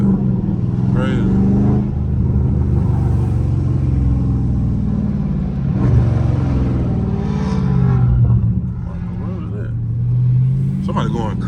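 A Dodge Charger Scat Pack engine rumbles and revs up and down around 3,000 RPM nearby while people talk loudly over it.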